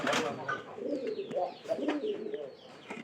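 A brown pigeon gives a run of soft, close coos in short rolling phrases, quiet overall, with faint chirps and background murmur around it.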